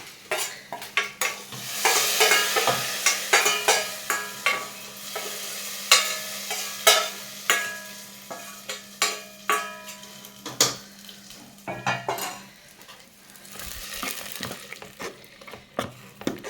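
Hot tempering of coconut fried until reddish is poured into cooked lentils for a drumstick-leaf dal, then stirred: a sizzling hiss with repeated scraping spoon strokes and clinks against the pot, fairly close, with no talk.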